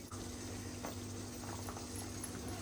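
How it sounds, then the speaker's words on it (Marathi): A pot of small prawn curry with raw mango, drumsticks and potato simmers on the stove, a steady soft bubbling and faint popping that continues evenly throughout, heard close with no voices. "छान असं उकळते कालवण।"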